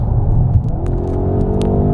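An Audi RS7's 4.0-litre twin-turbo V8 revs in a loud, steady, deep roar that rises gradually, heard from close by with no voices.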